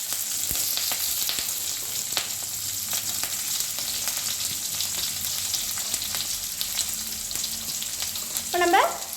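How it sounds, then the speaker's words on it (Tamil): Sliced onion and curry leaves fry in hot oil with lentils and cumin for a beans poriyal, making a continuous, dense, close sizzle with faint stirring ticks, and a short voice at the very end. "இப்போ நம்ம வெங்காயம் கருவேப்பிலை சேர்த்துடலாம்"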